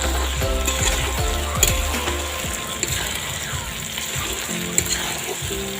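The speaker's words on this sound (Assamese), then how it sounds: "এতিয়া ভালদৰে লৰাই দিম" A pot of duck curry with large potato chunks is stirred while it sizzles steadily on the heat. A spoon scrapes and knocks against the pot in an uneven rhythm, close and fairly loud.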